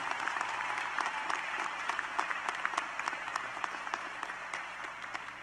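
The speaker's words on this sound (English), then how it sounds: "Give yourselves a round of applause" A graduation audience at Wellington Community High School gives a steady round of applause, many hands clapping in a dense, even wash heard at a moderate distance without speech.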